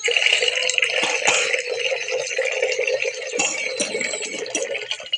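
Water splashing and sloshing steadily as soaked sago or flattened rice is rinsed and stirred by hand, with occasional rattles and drips, close up and continuous.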